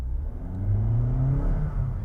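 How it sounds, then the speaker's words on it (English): A 2026 Honda HR-V Hybrid's petrol engine cuts in as the car is floored away from the lights, giving a loud, rising mid-pitched drone that swells and holds steady for about two seconds with no talk. "if you suddenly floor it away from the lights, that engine is going to kick in and you're going to hear a bit of fuss about it"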